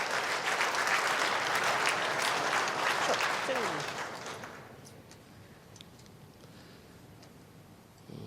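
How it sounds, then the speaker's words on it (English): Applause from spectators at an Australian men's indoor lawn bowls championship, dense and steady for about four seconds before thinning to scattered claps and fading under quiet commentary-free ambience. "Tony Wood giving his opponent a little applause there."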